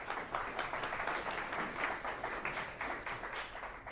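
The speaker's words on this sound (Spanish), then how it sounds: "Sí, un aplauso." An audience at a lecture in a church claps in a close, sustained round of applause, the individual hand claps rippling evenly across the crowd.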